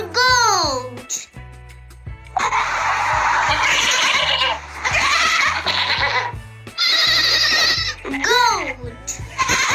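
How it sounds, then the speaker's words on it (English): Goat bleating in a children's ABC phonics song, the wavering calls near and loud over cheerful sung music and a voice. "G for goat."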